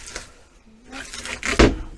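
A drawer in an Auto-Trail Imala 615 motorhome kitchen slides open and shuts with a soft rolling scrape and a firm thud at the end, close by.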